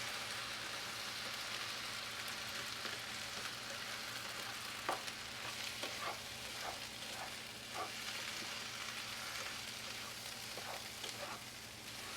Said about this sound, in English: I'm going to turn down the heat and add the chopped tomatoes, tomato paste, thyme, and Creole seasoning